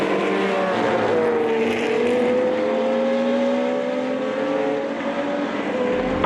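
A 1969 Porsche 917K race car climbs a hill at a vintage Porsche race meet, its engine note rising steadily and loud and close throughout, with no talk over it.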